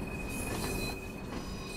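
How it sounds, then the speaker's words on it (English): An LMS Stanier Class 8F heavy freight steam locomotive in Train Sim World on the Peak Forest Railway rumbles along with a sustained high wheel squeal over dense, continuous rail noise. "the LMS Stania Class 8F, a heavy freight locomotive"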